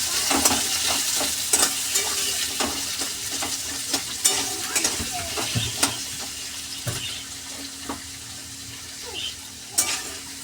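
Potatoes fry in a pan with a steady sizzle, broken by repeated sharp clinks and scrapes of stirring close by, with no talking.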